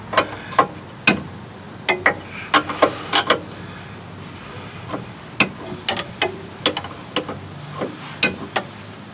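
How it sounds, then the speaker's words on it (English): Wrench loosening rusty bolts on the idler arm of a 2002 Ford F150, heard as irregular sharp metallic clicks and ratcheting ticks, some in quick clusters, over a quiet background. "I'm just gonna wrench these babies out of here."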